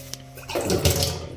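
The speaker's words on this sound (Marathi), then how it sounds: "पाणी देखील चालूच आहे" Water runs from a tap in a small homestay apartment in Dapoli. A brief gush swells and grows louder near the end, with nothing else heard.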